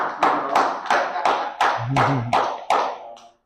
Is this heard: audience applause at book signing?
yes